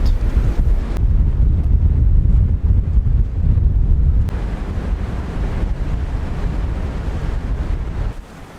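Loud, constant wind roaring into the microphone, with a deep rumble of water and waves underneath, aboard a sailboat on the Baltic Sea.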